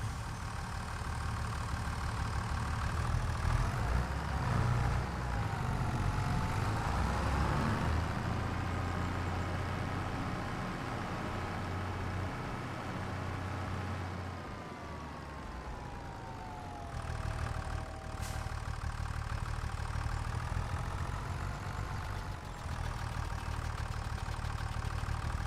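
A John Deere tractor idles in the video game Farming Simulator 25, a steady mechanical drone with slowly wavering tones that continues unbroken for the whole stretch, with no talking.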